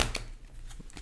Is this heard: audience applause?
no